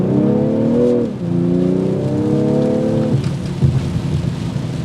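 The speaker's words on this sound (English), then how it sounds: "I'm going to activate the launch control." A 2022 BMW M340i launches hard with launch control, its engine note climbing loudly, dropping briefly at each upshift, then pulling again through another rising gear before settling into a steady roar with road noise.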